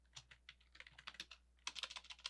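Quick, light clicks of typing on a computer keyboard while entering a report name, an uneven run of soft keystrokes that grows a little louder and faster near the end, quiet and close with no talking.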